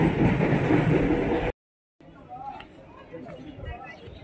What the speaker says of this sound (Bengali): আর ট্রেন বেরিয়ে গেল